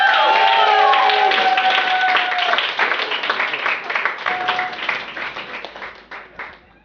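An audience applauds at a Yoruba Heritage Award ceremony, starting loud and dense and gradually thinning into scattered claps as it dies away.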